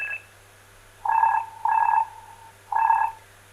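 A phone rings in a bathroom, sounding four short electronic ring bursts with slight echo over a steady low hum.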